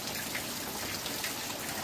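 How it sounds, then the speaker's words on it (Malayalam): Heavy rain falls continuously, a uniform mid-level wash of drops with a few louder spatters, no talking over it. "സൂപ്പർ മഴ, രാവിലെ മുതലേ ഈ മഴയാണ് കണ്ടോ."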